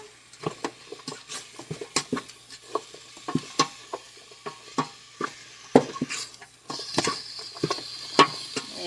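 A spoon scrapes and taps around a pot as browning hamburger meat for soup is stirred with garlic powder, giving irregular close clinks over a soft sizzle.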